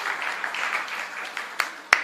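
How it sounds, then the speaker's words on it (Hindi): An audience at a birthday celebration for Swami Dikshanand Saraswati applauds to welcome an arriving guest, a dense crowd of clapping that tapers off, ending with a couple of sharp, isolated claps. "इनके अभिनंदन में एक बार आप जोरदार तालियां बजाएं।"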